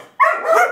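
A dog gives a single short, loud, close bark that trails into a whiny yelp, alone without voices.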